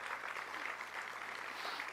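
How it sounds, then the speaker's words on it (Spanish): Conference audience applauding an introduced guest at an infrastructure congress, a continuous even patter of many hands clapping with no speech over it. "Aquí está Francisco Géneco, que también merece un aplauso"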